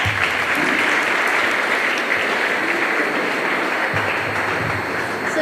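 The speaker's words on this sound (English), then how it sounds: "Can you please give one more hand of applause?" Loud, sustained applause from an audience at a career fair in Keetmanshoop, many hands clapping in a dense, even roar that holds steady throughout without pause.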